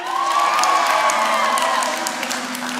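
An audience at a high school luau event claps and cheers for the tech team, with a steady wash of applause and scattered whoops throughout.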